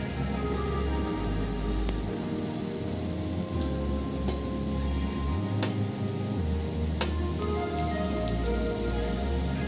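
Julienned ginger fries in hot ghee in a pan with a steady, dense, close sizzle, broken now and then by faint clinks of a utensil.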